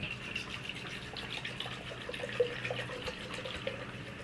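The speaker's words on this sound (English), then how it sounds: "it has the line right here, so you can tell where the water level is. So we're just gonna add it." Water poured into a Botanium mini hydroponic planter, a steady splashing trickle with small gurgles, close up and without talk.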